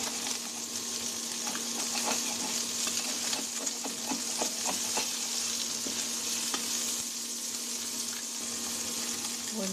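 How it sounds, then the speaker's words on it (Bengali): Fish frying in oil in a pan, a steady dense sizzle throughout with scattered clinks and scrapes as the pieces are stirred and turned over. "বন্ধুরা মাছগুলো আমি ওলট পালট করে ভেজে নেব"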